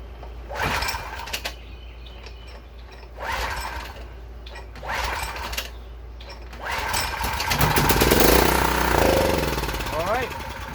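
A Gravely 7.6 tractor engine cranks in repeated mechanical bursts, then catches briefly and runs rough and loud for a few seconds near the end, with a voice speaking at points.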